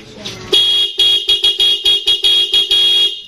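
Yamaha Lexam motorcycle horn with a relocated horn button, sounding in a quick series of about nine loud, close honks of varied length, the first long and the middle ones short and choppy.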